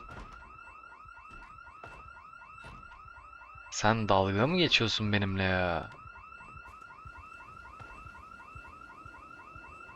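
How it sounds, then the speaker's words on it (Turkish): A house alarm in Project Zomboid rings throughout as a steady, rapidly pulsing electronic tone, while someone speaks briefly over it in the middle. "Bir de alarm mı öttü bu evde cidden?"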